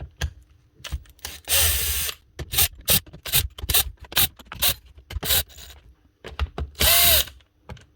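A Makita TM30 12V DC multi-tool motor buzzes in short on-off bursts, stopping and restarting repeatedly with a couple of longer runs, close and loud, no speech.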